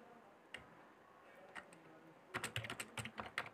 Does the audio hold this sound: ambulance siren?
no